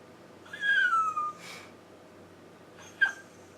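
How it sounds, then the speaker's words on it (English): A dog named Willie whines in high, thin, falling cries, one drawn-out whimper followed by a shorter yip a moment later, close by and loud against a quiet room. "if you hear a dog whining"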